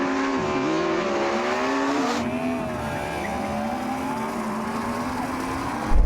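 Ferrari SF90 pulling away hard in a drag race, a loud whining engine note climbing in pitch with a brief shift, then fading, with no talk.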